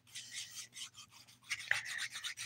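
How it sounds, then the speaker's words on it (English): Nail file rasping over fingernails during a dip powder manicure, with quick repeated scratchy strokes, close and quiet. "we are good to start filing"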